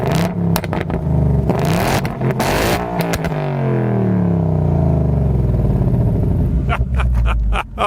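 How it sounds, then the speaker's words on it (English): A 2019 Ford Mustang Bullitt's 5-liter V8 barks through its exhaust with several sharp, loud revs that sweep up and fall away, then settles into a deep, rumbling idle, close by. "the exhaust note has got to be my favorite."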